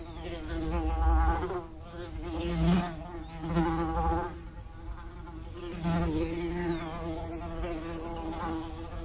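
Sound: 8D audio recording of a bee flying around

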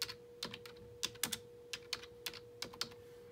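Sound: typing a search on a computer keyboard

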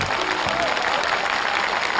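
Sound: audience applause

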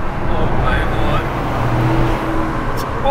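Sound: Toyota GR Corolla Morizo car driving and handling

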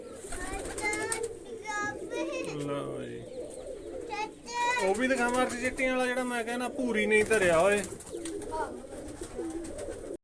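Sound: pigeons cooing

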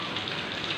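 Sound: heavy rain falling

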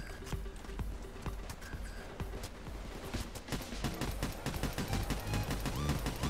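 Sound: gunfire from the video game Payday 2

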